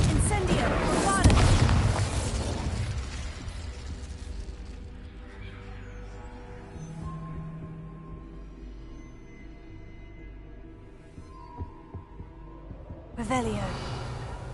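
Spell explosions in Hogwarts Legacy: Bombarda, Confringo and Incendio. Heavy booming blasts roll out at the start, a sustained rumbling hiss fades through the middle, and a fresh burst of blasts and crackle comes near the end.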